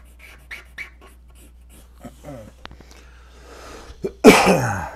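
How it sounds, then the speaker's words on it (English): One loud, sharp cough bursts out close to the microphone near the end, after a stretch of quiet breathing and small throat and mouth noises. "Blew your eardrums out with a cough."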